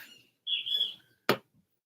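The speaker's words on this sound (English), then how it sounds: "Fucking birds aggravate me again." Small birds chirping outdoors, a few quiet, separate tweets and calls at a moderate distance with gaps of silence between them.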